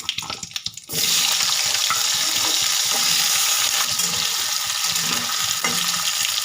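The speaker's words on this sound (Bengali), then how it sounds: "আলুগুলোকে লাল লাল করে ভেজে নেব" Potatoes fry in oil with cumin and bay leaf, a loud dense rushing sizzle that erupts suddenly after a quieter opening and holds steady up close.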